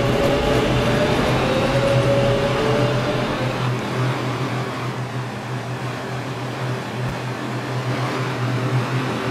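A Manhattan-bound 4 train, an R142 subway car, runs along the line with a loud, steady rumble and hum that eases slightly partway through.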